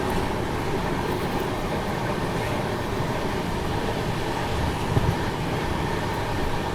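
The Kerala Express, Trivandrum to New Delhi, passes on the opposite track at sunset, heard as a steady, loud, continuous rumble and roar that stays even throughout, with no voices.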